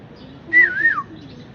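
A pet parrot gives a single clear warbling whistle that rises and falls for about half a second. It is close and loud against a quiet background.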